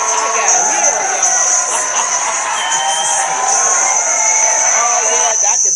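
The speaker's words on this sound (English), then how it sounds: "I gotta get some cheering in here." Crowd cheering sound effect played on a talk show, a dense, steady wash of many voices and whistles holding at a constant loud level for the whole stretch, with a talking voice layered over it.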